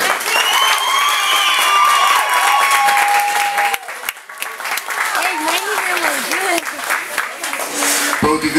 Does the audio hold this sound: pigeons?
no